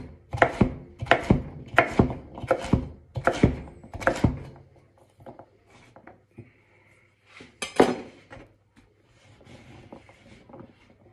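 Knife chops through food into cubes on a cutting board, a quick run of sharp, firm thunks followed by a quieter pause and a few scattered knocks and a clink.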